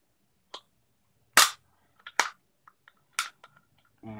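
Scissors snipping through a plastic pill bottle, several sharp separate cuts and clicks spaced irregularly, close and crisp against silence.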